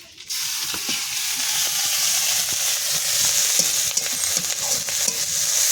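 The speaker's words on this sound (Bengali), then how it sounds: "পেঁয়াজটা একটু লাল লাল করে ভেজে নেব।" Onions frying in oil until reddish give a loud, continuous sizzle with faint scraping as they are stirred, close up with no talking.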